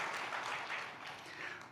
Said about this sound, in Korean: 우리 방송실에서 우리 수고하시는 분에게 우리 박수 한번 드리겠습니다